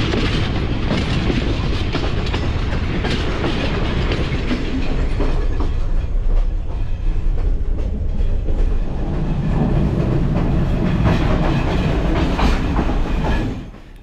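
A train runs along the Sri Lanka railway near Nine Arch Bridge, its wheels clattering steadily on the track in a loud, continuous rumble, with a louder stretch of rolling noise before it fades out at the end.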